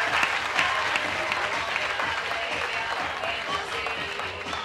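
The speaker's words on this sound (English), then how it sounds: "a big round of applause for Dennis" A crowd applauds an athlete at the 2015 modern pentathlon World Cup in Sarasota-Bradenton, with steady, dense clapping throughout and faint voices underneath.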